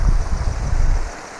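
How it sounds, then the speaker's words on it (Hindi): Stream water spilling about two feet down between stones along a rocky mountain brook, a close, loud, steady rushing splash. "पानी थोड़ा सा ऊंचाई से 2 से 3 फीट की ऊंचाई, 2 फीट की ऊंचाई से गिरा है, तो उसकी आवाज़ आपको सुनाई दे रही होगी"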